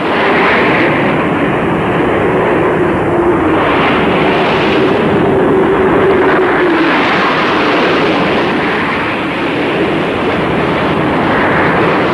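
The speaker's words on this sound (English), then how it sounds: "there will be an RAF flypast of 16 Lightnings from Rottisham" A loud, sustained roar of RAF Lightning jets passing overhead in a flypast of sixteen at Winston Churchill's state funeral, a broad rushing drone holding for the whole stretch with a slight swell in the middle.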